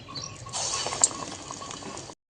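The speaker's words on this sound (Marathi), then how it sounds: "तेल गरम झालेलं आहे इथे मी बेसन पीठ घेतलेलं आहे त्याच्यामध्ये एक एक वडा घालून आपल्याला तळून घ्यायचं आहे" Pumpkin vadas dipped in gram-flour batter frying in hot oil, a steady close sizzle and bubbling that starts abruptly and carries on evenly, with a single brief clink partway through.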